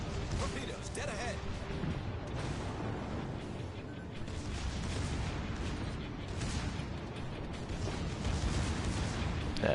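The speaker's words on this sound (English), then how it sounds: "Secondary guns are already opening fire." Secondary naval guns fire in World of Warships Legends as a rumbling run of muffled booms and thuds over a dense battle backdrop, with a voice talking throughout.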